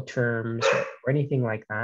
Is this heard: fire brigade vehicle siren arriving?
no